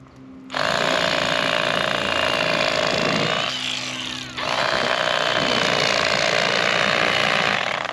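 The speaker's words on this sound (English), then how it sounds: "So, electric fillet knife. I got a Bubba blade, cordless." A cordless Bubba Blade electric fillet knife whirs loudly and close, a steady high buzzing motor that dips briefly partway through before running on at full speed.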